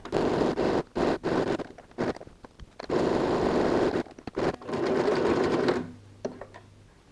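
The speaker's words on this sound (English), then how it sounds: "now we need to go and sew the Velcro first before attaching the pocket to the fabric" A sewing machine stitches Velcro onto the lining of a laptop case, running in steady bursts with short pauses between runs and a soft mechanical clatter, close and fairly loud, ending with faint handling noise.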